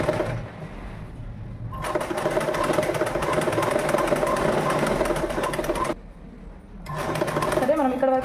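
A sewing machine runs a top stitch on an umbrella frock, whirring rapidly and steadily in close bursts that stop and restart, with someone talking over it.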